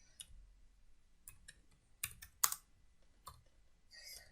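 Scattered keystrokes on a computer keyboard while text is entered in PowerPoint 2013, irregular soft clicks with a few sharper taps, fairly close and quiet with no talking.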